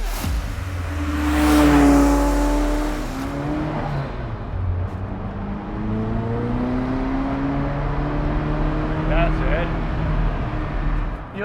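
A green Ferrari F40 revs hard while driving, its engine rising and falling through loud, close climbing pitch sweeps with turbo whooshes, and someone talks over it.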